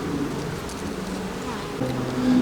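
Honey bees buzzing steadily during a beehive inspection at the first hive split of the year, a dense, continuous drone that is close and fairly loud and swells slightly toward the end.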